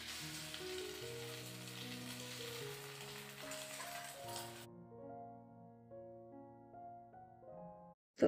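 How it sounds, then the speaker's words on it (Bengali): Eggs fry in a hot pan, a steady broadband sizzle for the first half that then stops, leaving the rest of the clip to music. "তো এক পিঠ খুব সুন্দরভাবে ভাজা হয়েছে।"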